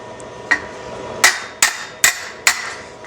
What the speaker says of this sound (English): you can hear a distinctive sound when I get the bend completely out and I'm making contact with the dolly